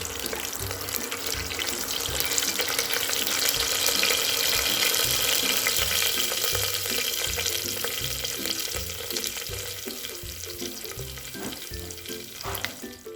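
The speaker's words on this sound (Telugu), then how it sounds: "ఇప్పుడు లైట్గా ఫ్రై అవుతూ ఉన్నాయండి." Mustard seeds, cumin and curry leaves fry in hot oil with a steady, loud sizzle and scattered crackles and pops, running continuously and alone with no talk.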